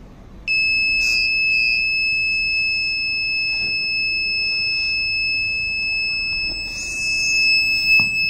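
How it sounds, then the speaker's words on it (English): A high, continuous electronic buzzer tone from an obstacle-detection gate control system sounds steadily, nearly unbroken, loud and close, with faint background noise. "So it will give the buzzer alert"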